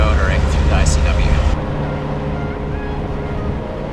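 A boat motoring along the Intracoastal Waterway on a run toward Beaufort gives a steady low engine rumble with wind and water wash. The motor is louder and fuller in the first second and a half, then settles to an even drone.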